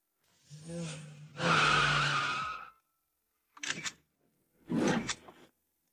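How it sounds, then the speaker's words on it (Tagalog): A Ferrari on a city street lets out two long tire skids, the second louder and broader, followed by two shorter screeching bursts after a pause, close and sharp with no talking. "nagmaneho ng Ferrari sa kalye"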